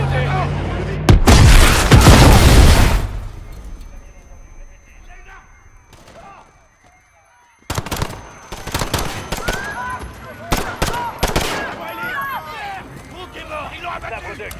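Bursts of loud gunfire erupt in the video game Call of Duty: Modern Warfare, a dense volley followed by scattered sharp shots, with tense shouted voices between them.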